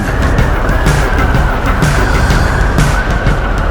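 A Harley-Davidson Sportster S 2023 motorcycle engine revs under acceleration with a slight jerk as the throttle opens, a loud, steady, continuous roar close by.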